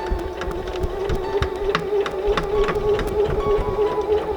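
A domestic sewing machine runs a straight stitch through lace with stretched elastic, giving a steady mechanical whir with rapid regular clicking, close and continuous without speech.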